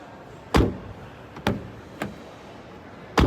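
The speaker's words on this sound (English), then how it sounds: "I think Mazda should work on the door handles. So the closing sound is good" A Mazda CX-60 (2023) car door shuts four times in a row, each a solid, fairly loud thud with a short tail, spaced roughly a second apart with quiet between.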